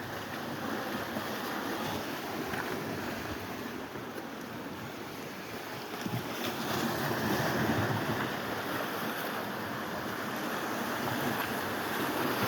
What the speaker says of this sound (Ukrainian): спокійне сьогодні море, Наталька